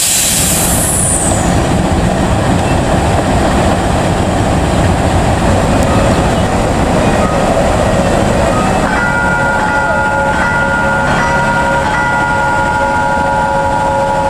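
Mutiara Selatan passenger train at Rancaekek station rumbles loudly and steadily as it moves, with a brief brake hiss near the start and sustained tonal ringing or squealing joining toward the end.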